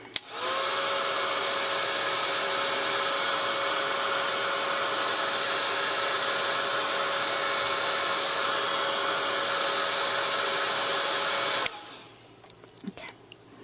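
A handheld heat dryer blowing over wet craft paint, a loud steady whirring roar held for about eleven seconds before switching off, followed by light handling clicks.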